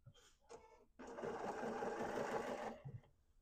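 A Bernina 770 QE PRO sewing machine running a steady close burst of stitching for about two seconds, framed by a few short taps and starts before and after.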